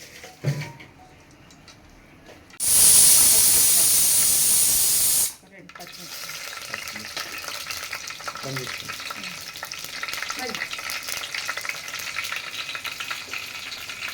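Mustard seeds hit hot oil for tempering with a sudden loud hissing burst that lasts a few seconds, then give way to steady crackling and popping in the pan.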